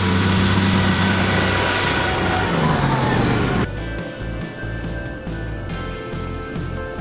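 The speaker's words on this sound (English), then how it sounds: "This has a 30 horsepower, 4-cylinder diesel engine that generates 64 foot-pounds of torque" A Kubota tractor's 30-horsepower four-cylinder diesel engine runs steadily with a droning, humming tone; the sound drops and changes character partway through, then keeps idling nearby.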